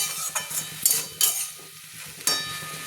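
Sajne (drumstick) flower chechki being stirred and fried in a pan, with soft sizzling under a few sharp spoon scrapes against the pan and quiet gaps between them.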